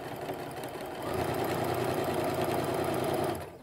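A sewing machine stitches sashing onto a T-shirt quilt block, its steady mechanical whirr and rapid needle chatter running close and continuous, picking up speed after a second and stopping near the end.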